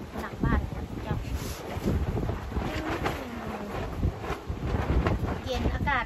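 Steady wind gusts buffet the microphone in a backyard where bamboo shoots are being peeled, a constant rough rumble with someone talking over it.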